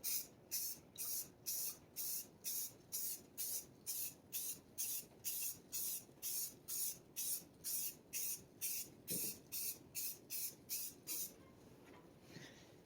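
White spray paint applied to a block from an aerosol can in about twenty short, evenly spaced bursts of close hissing, each lasting roughly half a second, followed by quiet.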